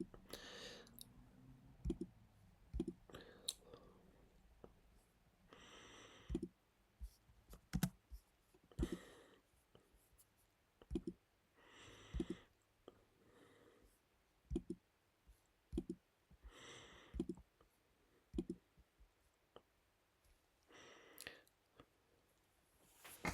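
Typing on a keyboard: sparse, quiet clicks come in short bursts with gaps between, and a soft voice murmurs faintly now and then.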